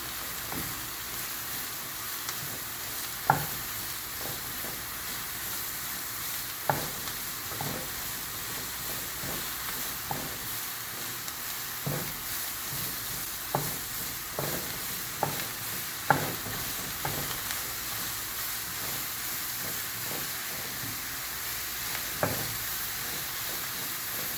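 Mushroom pepper roast fries in a pan with a constant soft sizzle, while a spoon stirs and scrapes at irregular intervals, producing sharp clicks over the steady hiss.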